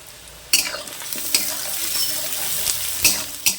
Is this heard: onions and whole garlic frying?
yes